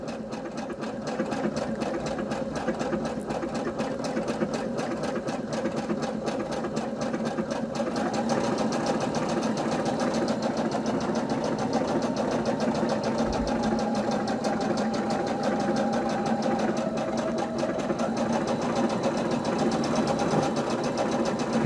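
A Brother CS5055 sewing machine stitching a pillowcase, driven by its foot pedal: a steady, close mechanical whir with a fast needle clatter that runs unbroken for over twenty seconds, picking up slightly partway through.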